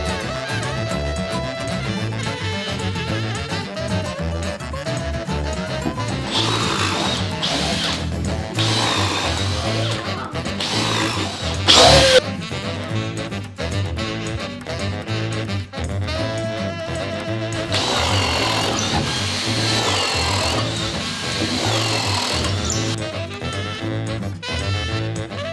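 Power drill with a boring bit chewing steadily through wood, a loud continuous grinding whine with a brief sharper burst midway, running close up for the whole stretch without talk.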